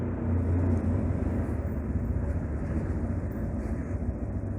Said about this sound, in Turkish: Otoparkta motorun sesini çok seviyorum.